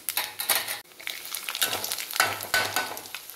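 Chopped ginger and garlic sautéing with whole spices in a pan: brisk sizzling and stirring scrapes in uneven bursts, close and fairly loud, with no speech.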